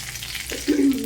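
Cardamom pods and cloves dropped into a tablespoon of hot coconut oil, giving a short, close sizzle that swells suddenly after a quiet moment.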